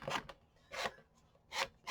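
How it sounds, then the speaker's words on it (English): Sandpaper rasps against a paper edge in short strokes, four quick scrubbing passes, close and fairly quiet. "sanding off some of these parts where it's a little bit"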